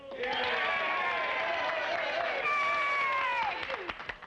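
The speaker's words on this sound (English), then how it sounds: "what are we cheering about?" A crowd cheering and clapping at a boxing match in the Oklahoma Territory, a steady roar of voices carrying through nearly the whole stretch before breaking up into scattered shouts near the end.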